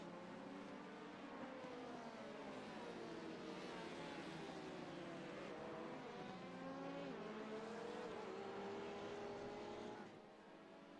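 Race cars head out for warm-up at Daytona in the iRacing sim before a two-hour endurance race, several engines droning and shifting pitch together in a steady, loud roar that drops off sharply near the end.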